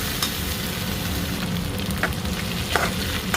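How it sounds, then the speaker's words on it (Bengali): Ginger garlic paste frying together with onions in a pan, a steady close sizzle with occasional stirring scrapes throughout, no voices. "अदरक लहसुन का पेस्ट डाल दी हूँ प्याज में, दोनों साथ में फ्राई हो जाएंगे।"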